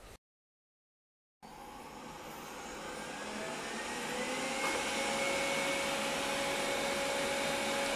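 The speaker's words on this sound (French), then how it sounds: "on va quand même tester le bruit des deux aspirateurs." Roborock S50 and 360 S6 robot vacuum cleaners run at maximum power, a steady whirring motor hum with high whine that starts abruptly after a brief silence and holds loud and constant.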